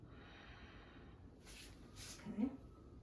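A patient breathes in and out during a head-to-toe assessment: two soft, close airy breaths, faint and brief, with a quiet low background.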